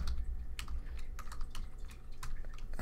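Close-up typing on a computer keyboard while writing Python code, a steady patter of fast key clicks over a low background hum, with no voice.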